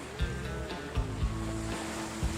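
Sea surf washes onto an Asian beach where crabs gather to spawn, soft rolling waves with a few low thumping surges at irregular intervals, fairly faint and steady with no voices.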